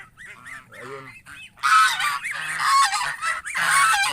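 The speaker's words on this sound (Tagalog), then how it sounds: "So ayan yung aming mga alagang gansa." Domestic geese kept as farm animals honk loudly and repeatedly in a rapid, overlapping chorus, nasal calls stacking up close to the listener with no talk over them.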